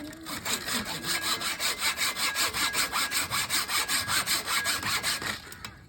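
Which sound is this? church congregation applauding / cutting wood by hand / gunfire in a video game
cutting wood by hand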